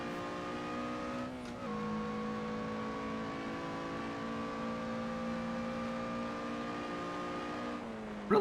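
In the racing game Assetto Corsa, the Olympias C1 rally car's engine holds a steady high-revving drone with a clear gear shift up into fifth, a drop in pitch, then a long even pull. The engine is alone with no talk.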